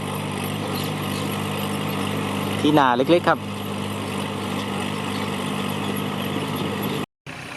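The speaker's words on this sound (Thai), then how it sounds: "เสียงรถไถนะ L 3 6 0 8ครับ 36 แรงม้า" A Kubota L3608, a small 36 hp three-cylinder tractor with a short stock exhaust, drones steadily as it plows a rice field. The engine stays under a brief burst of nearby speech.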